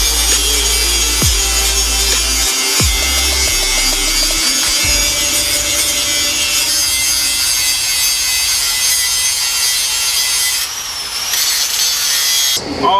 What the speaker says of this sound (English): All the grinding's done for the most part.